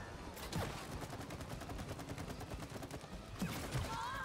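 Rapid continuous gunfire aimed at the Wasp Queen's shield during a boss fight in It Takes Two, a dense, evenly paced stream of shots with a few brief swooshing effects over it.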